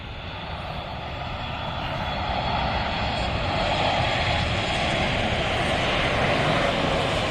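A Malaysia Airlines Boeing 737 MAX approaches to land in Dhaka, its broad jet engine roar steady and gradually swelling louder over several seconds, with no voices heard.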